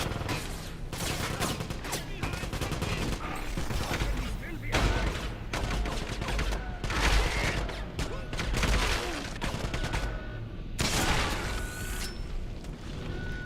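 Rapid, dense gunfire in the shooter Wolfenstein during a hospital mission, repeated bursts and crackling shots at close-to-mid distance, with talk running over the battle.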